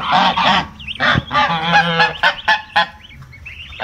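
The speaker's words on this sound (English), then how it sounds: "I can't tell if that's an aggressive thing from the goose or not." Adult geese honk loudly and close up at young goslings, a rapid series of harsh, nasal honks and shorter squawks in irregular bursts, with a few high peeps between them.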